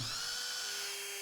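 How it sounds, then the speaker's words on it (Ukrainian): A high-pitched power drill whines steadily for a brief moment, close and continuous, drilling holes through a brass plate. "Свердлимо отвори."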